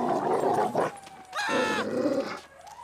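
A dog in GTA V gives a couple of short barks and yips amid busy game ambience and street noise, moderately loud with no speech.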